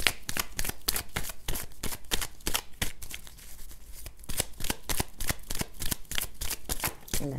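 A deck of tarot cards is shuffled repeatedly, giving a long run of sharp, rapid riffling flutters close up, with no voices.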